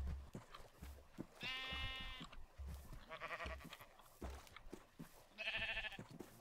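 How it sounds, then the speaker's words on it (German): Sheep in the Minecraft video game bleat in three distinct, clear calls spaced a couple of seconds apart, over faint game noise and quiet background sounds. "kommen immer mehr Schafe und wir immer weniger"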